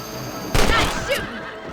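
A single gunshot bursts out in the Red Dead Redemption video game during a rabbit hunt, a sharp loud crack followed by a short decaying echo over a quiet background.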